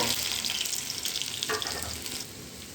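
Garlic fries in a hot pan, a close, dense sizzle with light crackles that eases slightly toward the end.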